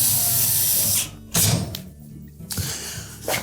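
A screw is driven into the back panel of a GE range during a temperature sensor replacement, giving a loud mechanical ratcheting buzz with a brief pause, then a second short burst, close up.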